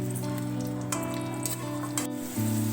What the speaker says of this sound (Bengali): আলুটাকে ভাজবো।